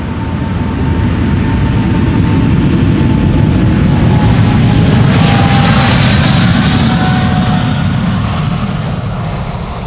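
A KLM Boeing 777-300 departs Amsterdam Schiphol on a flight to Sao Paulo, its engines roaring loud and close for the full stretch, with a rising then falling whine as it passes.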